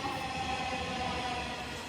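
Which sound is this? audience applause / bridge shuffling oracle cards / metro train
metro train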